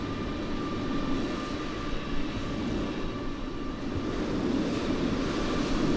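A steady, loud broadband roar of an airliner engine in Microsoft Flight Simulator, holding at an even level throughout with no talk, a constant cabin-like drone.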